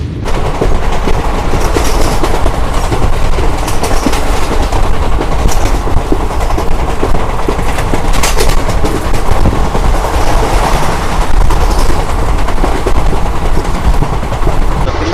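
A steady, loud rumble of the Jaynagar–Sealdah Gangasagar Express running on tracks, with continuous rolling noise and occasional sharp clacks throughout, no voices.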